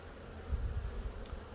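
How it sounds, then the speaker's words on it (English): Young honeybees crowd a hive frame, giving a steady close buzzing drone with no voices. "There's a lot of young bees on this frame"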